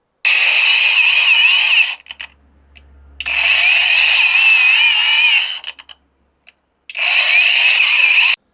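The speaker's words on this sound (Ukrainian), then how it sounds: "включає болгарку револьт на першій швидкості. Це чути на пообертах." A Revolt angle grinder on its first, lowest speed whines in three long bursts separated by short pauses, a loud, high-pitched steady drone each time it runs.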